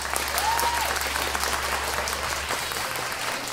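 Crowd at a freestyle rap battle event in Ciudad Juárez clapping steadily, a dense even wash of applause over a low hum, with a brief whistle-like tone early on.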